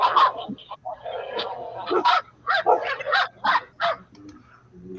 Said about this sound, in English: either the little dog growling or the big woof woof, one of those is supposedly the Bigfoot doing that